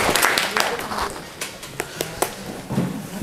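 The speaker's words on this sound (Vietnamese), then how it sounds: "chúng ta cho cả công ty tràng pháo tay nhỉ." Company staff at a New Year gathering give a round of applause: sharp, uneven claps scattered over a few seconds, mixed with people talking in a room.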